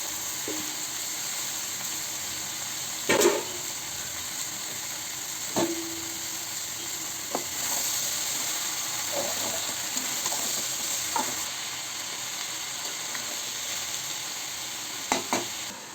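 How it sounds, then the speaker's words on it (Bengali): Thinly sliced bottle gourd fries in a hot wok with a steady sizzle, and a few sharp clanks and scrapes of stirring break through now and then. No one talks. "ভেজে নেওয়ার পরে ঝিরিঝিরি করে কেটে রাখা লাউগুলো দিয়ে দিলাম কড়াইয়ের"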